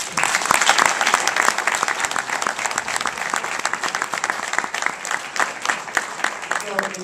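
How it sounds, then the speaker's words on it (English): Sustained applause fills a room at an awards ceremony honoring police officials in Brooklyn, New York; many hands clap loudly and continuously, with a faint murmur of voices mixed in beneath the crowd. "we give them all a round of applause"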